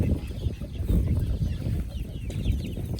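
Month-old chicks clucking in a pen during evening chores, a dense, continuous chorus of soft cheeps and clucks from many birds close by, with no voices over it.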